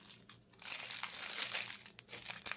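A plastic piping bag with a metal tip dropped inside, crinkled and snipped open with scissors, close rustling and crackling with a few sharper clicks, no talking.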